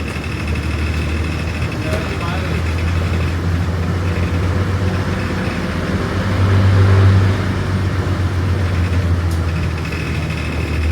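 On the narrow bus road to Kumily, a van approaches as the bus engine holds a low, steady drone, swelling louder for a moment midway, with voices talking.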